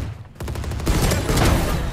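Rapid automatic gunfire in the tactical shooter Valorant, a loud close burst of repeated shots that builds into dense firing over two seconds.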